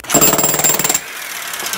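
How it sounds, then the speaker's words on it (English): Demolition hammer breaking up a brick hearth: a loud, rapid hammering burst for about a second, close and harsh, then it stops and leaves faint residual noise. "Sister's going to use the demolition hammer."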